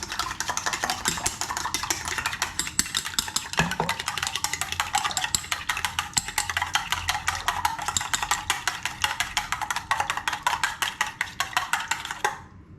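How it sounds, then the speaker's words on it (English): Chopsticks whisk egg in a bowl for egg drop soup, a rapid, steady clicking and tapping against the dish repeated continuously for about twelve seconds, close and moderately loud, stopping at the end. "now I'll use the chopsticks to do a little whisking here"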